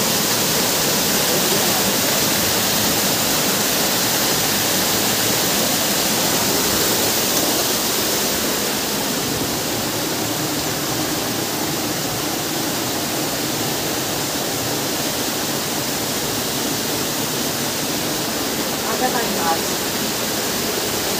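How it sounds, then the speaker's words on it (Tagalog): Continuous roar of water pouring down a mountain waterfall, a loud, steady broadband rush that fills the whole span, with a voice briefly audible beneath it near the end. "Kaya pala tuloy-tuloy ang tulo ng tubig"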